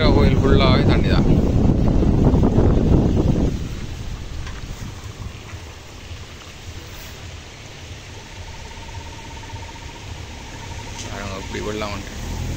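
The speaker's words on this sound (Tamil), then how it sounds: "மழை விட்டுட்டு சரியான காற்று அடிச்சு கொண்டிருக்குது" Strong cyclone wind after rain buffets the microphone in a steady roar after a few seconds of someone talking, with a faint hum in the background.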